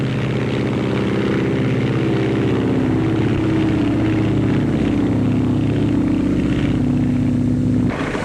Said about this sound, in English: In 1929, Captain Frank Hawks climbs aboard his Lockheed to set a new transcontinental mark